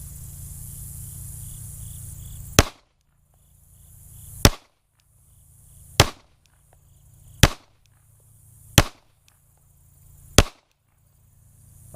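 Six sharp, loud pistol shots from a Glock Gen 5, fired one at a time at steady intervals of about one and a half seconds in slow fire, each crack clipped short against a quiet range.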